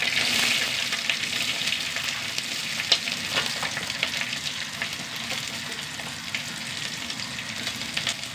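Dried red chilli, curry leaves and small shallots frying in hot oil give a continuous close sizzle, with scattered sharper crackles and pops over a steady hiss.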